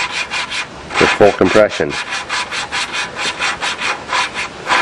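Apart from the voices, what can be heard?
lapping a lawnmower engine valve into its seat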